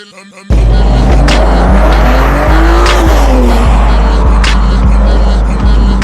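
A 2025 BMW X6 engine revving hard outdoors, a loud rising and falling roar with repeated sharp bursts and a hissing turbo note, no talk over it.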